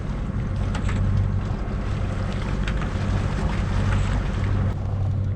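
A sailboat motors under engine near the mouth of Loch Torridon, a steady low drone with wind and water hiss running throughout, no voices.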